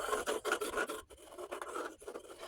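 A compass point scratches and scribes across a wooden slab, marking out a bowl blank before bandsaw cutting; steady close rasping strokes with a brief pause partway through.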